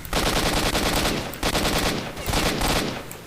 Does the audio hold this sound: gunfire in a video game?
yes